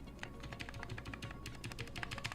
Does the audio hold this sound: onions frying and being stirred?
no